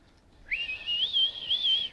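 A person whistles a short, wavering tune that rises and falls unsteadily for about a second and a half, fairly faint against quiet room noise.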